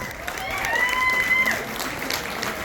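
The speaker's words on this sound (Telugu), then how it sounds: "చేతులు ఎత్తి చప్పట్లు నిలబడి చప్పట్లు కొట్టాలి అందరూ నరసన్నకి" A crowd at a Nalgonda folk song and dance event stands and claps for a performer, a broad wash of applause with a few tonal voices or whistles rising through it, swelling then easing.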